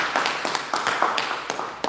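A small group clapping for themselves at a family and sexual violence prevention evaluation session: short, uneven bursts of hand claps over a couple of seconds, close and moderately loud.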